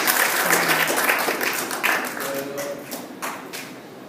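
A congregation claps during a Spanish-language service at a restoration church in Parlier. The claps come as scattered, fairly close beats under faint tones and room noise.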